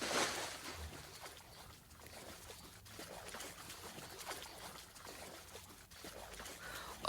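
Flowing, trickling water from the video game Wings of Fire: Pyrrhia, a soft, continuous watery wash at moderate level with small splashy ripples throughout.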